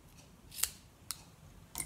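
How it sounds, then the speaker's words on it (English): Scissors trimming the ends of paper for a notepad clipboard, three quiet crisp snips spaced apart at close range. "And then I'm just going to trim the ends"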